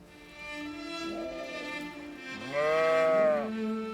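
Nubian dairy goats on a farm bleat close by, first a quieter wavering call and then a louder, longer bleat near the end, with no talking.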